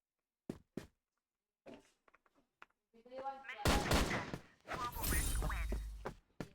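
Gunfire from a CrossFire first-person shooter match, with a few sharp isolated shots early on and then dense, loud bursts of firing and impacts. A player's voice speaks over part of it.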